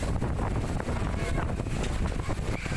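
Tornado-force winds roar through a residential area of Kelurahan Sukajaya in amateur footage, a loud continuous rushing blast that buffets the microphone throughout with no pause.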